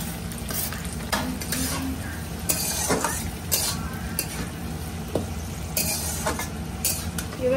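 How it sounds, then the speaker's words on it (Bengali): Fried vegetables, along with cashews and raisins, are stir-fried in hot oil and ghee for fried rice, with a continuous sizzle and repeated clattering scrapes of a spatula against the pan. "এবারে ভেজে রাখা সবজিগুলো দিয়ে দেবো তেলে।"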